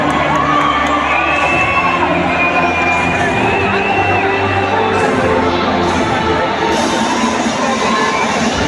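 A packed Chinnaswamy Stadium crowd roars and cheers loudly and continuously as Virat Kohli and du Plessis walk out at an RCB vs LSG IPL match, with shouts and whoops layered throughout.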